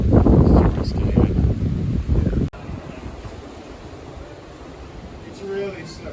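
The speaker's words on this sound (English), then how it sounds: "It's too windy." Strong wind gusts across an outdoor rock climbing spot with wet rock, a steady close roar of buffeting that is heavier for the first couple of seconds, then drops to a lower, constant rush.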